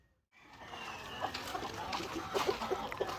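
Several short clucks from upgraded native chickens over a soft, steady background hiss, scattered irregularly through the clip.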